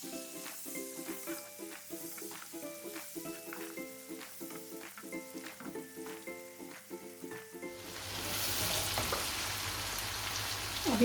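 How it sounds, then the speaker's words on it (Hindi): An egg and lentil curry with tomatoes sizzles and fries in a pan, a soft steady crackle with faint regular tapping that swells into a louder, denser hiss near the end; close, no talking. "तो हम इसको मज़ीद भूनेंगे"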